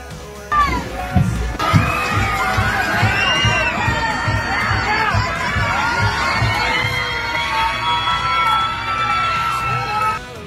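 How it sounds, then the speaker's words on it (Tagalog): Crowds lining a street during the Hamaka Festival parade in Taytay, Rizal scream and cheer loudly as celebrities pass, a continuous high-pitched mass of shouting with excited yells over a rhythmic low beat. "Sobrang daming tao na nag-aabang sa daan at sigawan kapag dumadaan na ang mga celebrities."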